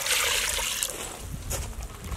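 Water poured into a pot of broiler chicken splashes and trickles steadily for a couple of seconds, close and moderately loud, with no one speaking.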